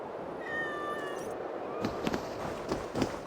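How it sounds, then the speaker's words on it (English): Cats meowing in the Assassin's Creed Valhalla video game, a drawn-out tonal meow early on, then several shorter meows over soft ambient game background. "If these are Freyja's cats, they must be leading to her."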